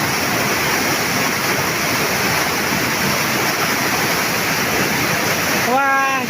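Floodwater rushes down from the mountains in Laos past a washed-out bridge, a loud, continuous broadband roar close by that never lets up.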